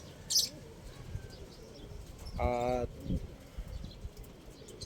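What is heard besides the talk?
pigeons cooing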